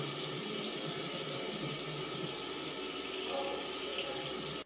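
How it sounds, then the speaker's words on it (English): A bathroom tap runs in a steady, close hiss while a face is washed, unbroken until it stops abruptly at the end. "I'm just gonna wash my face and get ready for the day."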